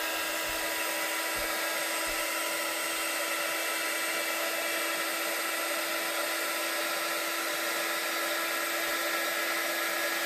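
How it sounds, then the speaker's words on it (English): A small heat gun blowing hot air to shrink heat-shrink tubing over freshly soldered wires during a dishwasher repair, a constant loud whooshing hiss with a steady fan whine from start to finish. "We've got the quickie little heat gun."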